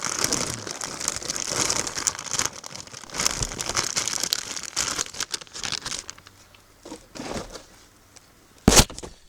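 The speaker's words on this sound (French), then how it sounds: "je vais la déballer" Plastic packaging crinkles and tears as a new Blueprint steering tie rod for a Nissan Terrano is unwrapped, close and steady for several seconds, then quieter rustles and one sharp crackle near the end.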